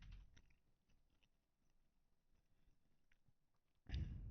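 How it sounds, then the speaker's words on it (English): Someone eating chicken chews close to the microphone, giving quiet, irregular wet bites and crunches at a low level, then a louder bump near the end, with no speech. "You probably don't want to hear my chewing"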